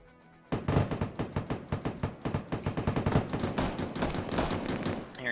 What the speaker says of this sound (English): Hearing some heavy fire.